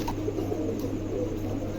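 A pair of domestic pigeons at a Bangladeshi bird seller's coo softly and steadily, a low continuous murmur running through the whole moment without any talk.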